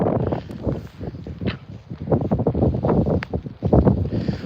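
Gusty wind blows outdoors during a lake effect snow squall in Oswego, rumbling and buffeting loudly in uneven surges against the microphone, with no voices.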